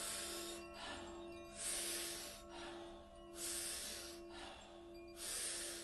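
A group of people in a live Kundalini yoga class takes powerful rhythmic breaths through the mouth. Long, breathy hissing whooshes come in a steady alternating pattern, faint and roomy, with a low steady drone beneath.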